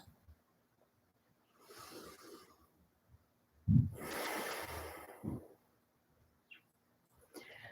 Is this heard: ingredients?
no